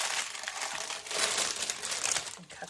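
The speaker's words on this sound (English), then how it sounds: "I want to reuse my parchment paper, so I'm actually going to peel that off" Parchment paper peeled away from pressed energy bars gives a steady close crinkling and crackling over a couple of seconds, sounding on its own with no voices.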